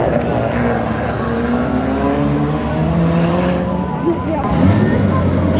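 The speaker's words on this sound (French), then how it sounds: "Avec le numéro 65, nous retrouvons une autre Renault 21 Turbo" A Renault 21 Turbo race car climbing at a historic hill climb event, its engine roaring loudly with rising, shifting revs as it accelerates, while an announcer talks over it.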